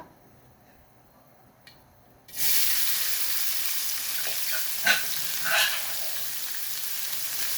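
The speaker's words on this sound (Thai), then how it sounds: "น้ำมันเริ่มร้อนแล้วนำพริกผัดลงมาผัดเลยนะคะ" Chili paste hits hot oil in a pan: a couple of seconds of near quiet, then a sudden loud, hissing sizzle that carries on steadily, broken by a few stirring scrapes.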